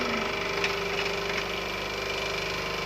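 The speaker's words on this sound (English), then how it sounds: "Now we will increase the load on the motor." A single-phase induction motor running at 220 volts on a test bench as its load is increased, a steady close mechanical hum with faint rhythmic knocking throughout.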